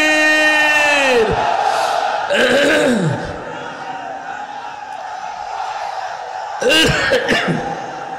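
A large crowd at a Bangladeshi Islamic rally on a parade ground bursts into loud chanted responses of takbir after a leader's shouted call, with two surging waves of voices and a hum of crowd noise in between.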